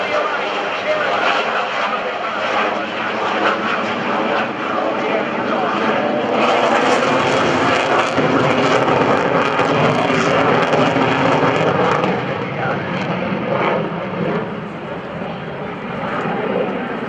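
An F/A-18C Hornet jet roars past at close range during an airshow demonstration, a loud, steady broadband engine rush that swells and peaks midway before easing slightly, continuous throughout.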